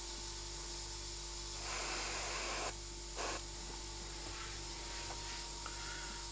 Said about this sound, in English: I like the way the airbrush applies the color.